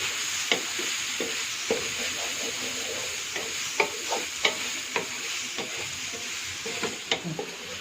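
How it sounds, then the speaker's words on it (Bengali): Vegetables frying in a pan under a steady sizzle, with repeated sharp spatula clicks and scrapes at an irregular pace, close and without talk. "এটা একটু ভালো করে ফ্রাই করে নিতে হবে।"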